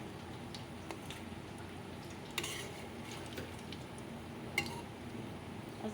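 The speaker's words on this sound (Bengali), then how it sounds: "চলো বড়াগুলো ভেজে নেই" Eggplant fritters fry on low heat in a thin wok, a faint steady sizzle broken by a few sharp clinks and scrapes of a utensil against the metal, quiet and close.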